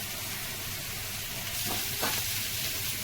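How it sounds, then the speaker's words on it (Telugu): Cumin, mustard seeds, chopped onion, green chilies and curry leaves frying in a pan, a steady loud hiss with a couple of brief stirring scrapes near the middle, no voices. "దోరగా వేయించుకోవాలండి."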